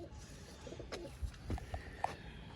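Pure Rajasthani Chapra pigeons give soft, low coos in short bursts close by, against a steady background hiss and faint noise.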